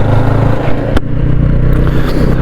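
A new BSA Bantam 350 motorcycle engine drones loudly and close while being ridden, with a brief click and dip as a gear change slips in around the middle before the engine note carries on steadily.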